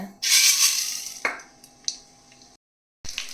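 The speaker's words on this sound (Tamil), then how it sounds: "எண்ணெய் காஞ்சிச்சுறாங்களே, கடுகு போட்டுருங்க." Mustard seeds hit hot sesame oil with a sudden bright sizzle and a few crackling pops, then fade away before a short silence and another burst of frying.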